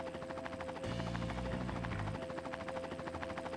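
Helicopter in the video game Armored Core Nexus, a steady rotor drone with a pulsing chop, fairly faint and continuous, with a brief lower swell in the middle.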